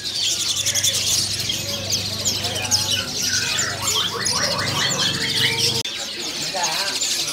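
Jalak kebo birds chirp and chatter in cages at a bird kiosk, with repeated bright calls over a low background hum and indistinct voices nearby.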